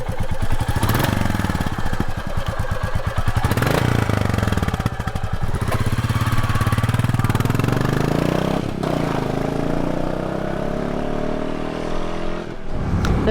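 Royal Enfield Bullet 350 single-cylinder motorcycle engine, close and loud, with a rapid thumping idle that rises into revving, then lugs and falls back, with a rattling mechanical clatter throughout.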